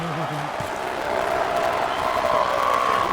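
A large crowd roars and cheers continuously in the distance at a wrestling event, a broad wash of noise with some tones and whistles rising above it.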